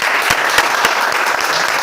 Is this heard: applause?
yes